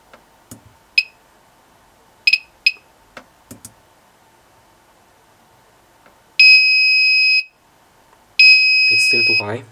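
Two long, loud electronic alarm tones from a uRADMonitor radiation dosimeter near a radiation source, each lasting about two seconds, follow a few scattered clicks and short beeps, with a brief gap between the tones.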